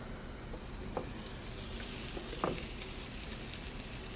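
Broccoli pizza sizzling steadily on a Dash 8-inch Express electric round griddle, a soft continuous frying hiss with a couple of faint clicks, no talking.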